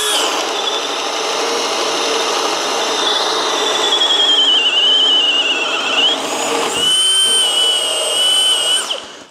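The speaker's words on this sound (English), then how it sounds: "you could hear a little bit of bogging" A Flex right angle drill in high gear bores into a 4x4 timber, a loud close whine with shifting pitch and a brief dip where the motor bogs, then rises again before cutting off.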